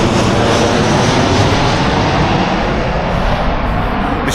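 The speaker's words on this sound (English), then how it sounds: "so like it's proper loud when the planes go over." An airplane passes overhead close to an airport near a Birmingham village, producing a loud continuous broadband roar that fills the whole short stretch without a break.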